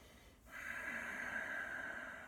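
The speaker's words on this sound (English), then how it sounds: "I've just brought in Ujjayi breath, totally optional" Ujjayi yogic breathing, a soft, steady hissing breath drawn through a constricted throat, close and quiet, one long breath after a brief pause, with no talk.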